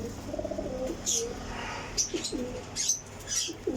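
A pure Kasuri pigeon coos in repeated soft, rolling calls, joined by sharp chirps from other birds nearby and a faint flutter of wings.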